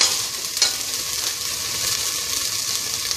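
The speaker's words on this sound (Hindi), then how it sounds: "ये तेल गर्म हो जाएगा तो हम ये 1 टेबल स्पून जो है अदरक लहसुन का पेस्ट इसमें डालेंगे।" Ginger garlic paste and chopped green chillies hiss and sizzle in hot oil in a pan, a steady loud frying crackle with one brief clink near the start.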